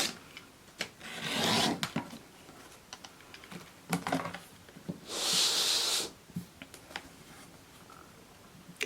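Rotary cutter trimming the edges of a log cabin quilt block against a Creative Grids trim tool, giving two long rasping cuts with scattered taps and clicks of handling between them, close and fairly quiet.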